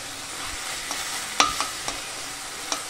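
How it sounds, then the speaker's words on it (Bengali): Leafy greens sizzling steadily in a hot pan as they are stir-fried, with a few sharp scraping clicks from the spatula over the constant frying hiss. "এভাবে আরেকটু আমি ভেজে নেব, তাহলেই আমার শাক ভাজাও হয়ে যাবে"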